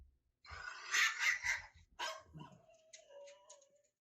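A small feisty dog barks and yips several times in quick bursts, close and fairly loud, ending in a thin whimpering whine.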